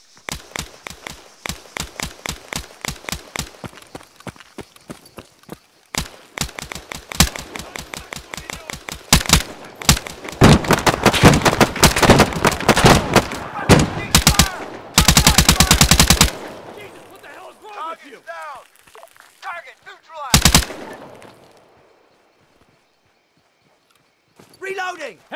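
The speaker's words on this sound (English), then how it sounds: "Fire at will." Heavy gunfire from a firefight in the military shooter ArmA3, with rapid machine-gun bursts and single shots, loud and close, broken by short pauses, with voices calling out between volleys.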